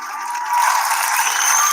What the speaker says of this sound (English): I can just leave the claps on consistently.